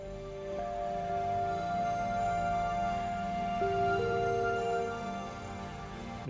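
A Pigments synth patch, a lead layered with a shimmering bell pad, plays sustained bright tones alone, with one note change partway through, steady and fairly quiet.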